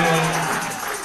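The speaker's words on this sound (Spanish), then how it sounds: "Denle un aplauso al Señor" A church congregation claps and cheers together at a Christian worship service, a dense continuous wash of applause that slowly fades, with a raised voice briefly audible at the start.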